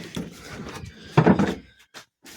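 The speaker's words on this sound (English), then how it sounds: "I'll go in the back door, it'll be easier." The rear door of a VW Transporter T5.1 van in the middle of a salvage rebuild opens with a close, loud clunk and rattle at mid-clip, followed by short thumps and then near silence.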